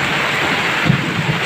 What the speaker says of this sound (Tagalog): Lakas yung kulog guys.